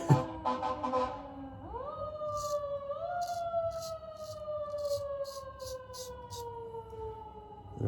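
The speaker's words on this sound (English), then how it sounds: "Gotta have a siren." A wailing siren rises and holds, its pitch sweeping slowly, moderately distant and steady for several seconds with faint background noise.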